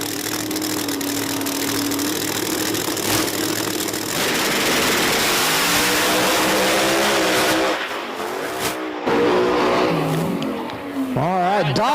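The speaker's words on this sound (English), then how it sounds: "We've got a pair of race cars just finished up the burnout." Drag race cars roar loudly at a Virginia Motorsports Park outlaw event, engines sustained and harsh with revving surges, crackling bursts and skidding near the end, under faint crowd and announcer noise.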